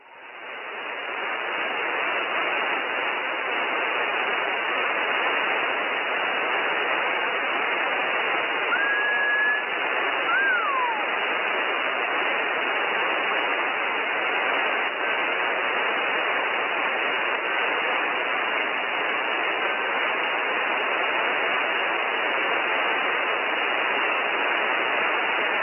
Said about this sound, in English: I gotta use the squelch because I can't handle the white noise.